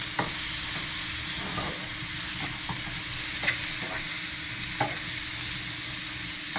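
Food frying in peanut oil is stirred in a pan. A continuous close hiss of sizzling runs throughout, with scattered light clicks and scrapes from the stirring, and no voices.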